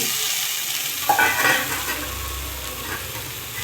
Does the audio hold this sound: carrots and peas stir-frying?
yes